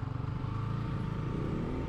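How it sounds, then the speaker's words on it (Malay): A motorcycle radiator cooling fan runs steadily, a continuous droning whir with low engine-like rumble, close and fairly quiet throughout. "Bunyi kipas dia memang bising sikit lah kan."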